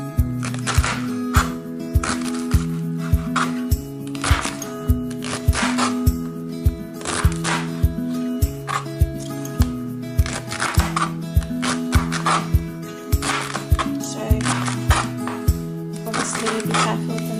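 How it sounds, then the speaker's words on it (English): Washed celery is cut into pieces with a knife, giving a steady run of crisp chops roughly once a second over a constant humming, tonal background. "now I'm just going to cut it up into pieces"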